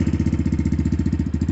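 Xmoto 250cc dirt bike engine idling while warming up, a close, loud, steady low-pitched putter with rapid even pulses and no talking.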